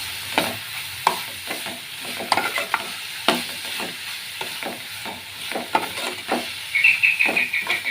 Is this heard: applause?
no